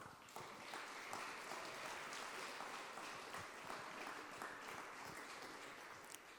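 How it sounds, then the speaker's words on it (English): Audience applause welcomes guests to a panel discussion on panic, neuroscience, culture and crisis; dense, steady clapping from a room-sized crowd, fairly faint and even throughout with no one talking. "please let's give them a warm welcoming applause"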